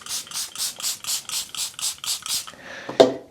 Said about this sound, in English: spray down your palette,